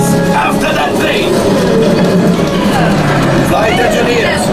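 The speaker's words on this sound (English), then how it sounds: "Ah, there it is. After that train." A rumbling train clatters past amid loud ride effects and excited voices on the Millennium Falcon: Smugglers Run theme park ride, the rail noise steady and close throughout the short moment.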